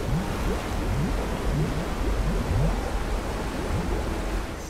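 Continuous rushing, churning water fills the space as water levels rise in Rise of the Tomb Raider, a steady loud wash with faint gurgling and splashing throughout.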